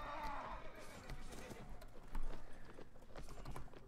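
Horses neigh and hooves clip-clop in a medieval battle from Mount & Blade: Warband, a whinny rising near the start over steady galloping and faint battle clatter.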